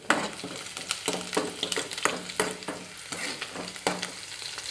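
Onions and green chillies sizzle steadily in a pan for a mixed vegetable curry, while a spoon stirs them with a run of scraping strokes that rise above the frying hiss.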